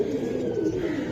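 A racing pigeon coos once, a soft low rolling call close by with no voices.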